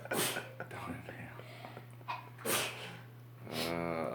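A sharp sneeze bursts out amid quiet voices, followed by breathy noises and brief speech close to the microphone.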